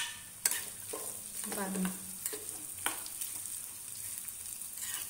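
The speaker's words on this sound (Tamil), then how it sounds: "அந்த தேங்காய் சில்லு அதையும் வந்து நெய்யில் வறுத்துருங்க" Coconut pieces fry in ghee for sweet pongal, making a soft, continuous sizzle broken by a few scraping stirs and clinks up close, with a short spoken remark briefly over it.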